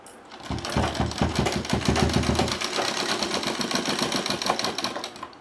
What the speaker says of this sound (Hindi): तो देखिए इस तरह पहले हमें फ्रिल के जो शुरुआती पार्ट है हम उसे इस तरह सिलाई कर लेते हैं।